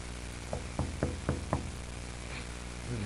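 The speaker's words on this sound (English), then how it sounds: "There's a knock at the door." Four sharp knocks at a door sound in an even rhythm against a steady background hum, followed by quiet before a faint shuffle at the end.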